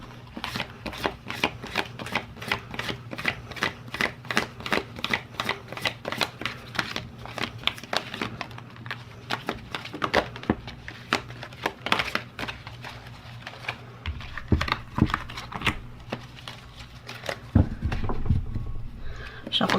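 Rapid, rhythmic flicks of a deck of cards being shuffled by hand, close up, continuing in bursts with a low background hum.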